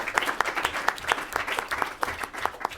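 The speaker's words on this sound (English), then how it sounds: "Maybe we should give first a round of applause." Round of applause from a modest audience after a panel session, sparse individual claps in an uneven rhythm, fairly close and moderately quiet.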